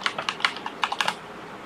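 A short burst of keystrokes on a computer keyboard as a one-time password is entered, about a dozen crisp close taps in uneven clusters, then quiet.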